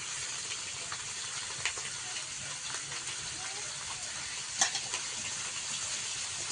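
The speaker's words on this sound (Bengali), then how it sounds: "তো এই কড়াই মাছ ভাজা চলছে, আর ওই কড়াইতে একটু পেঁয়াজ কুচি আর সঙ্গে কালো জিরা দিয়ে দিয়েছি।" Chopped onion, slit green chilli and black cumin fry in a wok while fish fries in a second pan. A steady, soft sizzling hiss continues throughout, with a few faint clicks.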